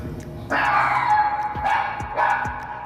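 A dog howls in long, wavering drawn-out cries, three rising wails in a row, fairly close, with faint background noise between.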